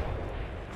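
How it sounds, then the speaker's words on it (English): Grenade blast in the battle-royale shooter Apex Legends: a short, dense low rumble with broad noise, sustained and fairly quiet across the whole moment with no distinct sharp onset. "Now you put a grenade right next to me."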